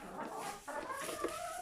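A hen clucking inside a chicken coop, a few close, short throaty clucks and a drawn-out vocal note over quiet background.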